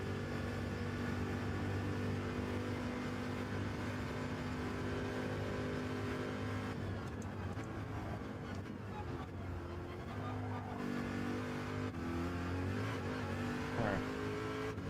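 A race car lapping the Daytona Road Course in the video game Gran Turismo 7, its engine droning continuously with pitch shifts and revving through braking and a chicane, with no talk.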